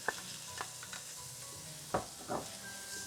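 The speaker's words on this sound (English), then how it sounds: "we have preheated oil in the pan, and we're going to get, again, our half cup of diced ham crispy" Half a cup of diced ham fries in preheated oil in a large pan, a faint, soft sizzle with a few scattered clicks and scrapes, close but quiet, no talking.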